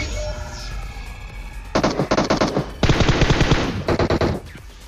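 Bursts of rapid automatic gunfire from enemy players in PUBG Mobile rattle out in several loud volleys, starting faint, then sharp strings of shots with brief pauses between them.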